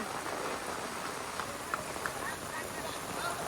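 Heavy rain falls during an outdoor cricket game, a soft continuous hiss of drops on surfaces with a few faint taps, heard from a distance.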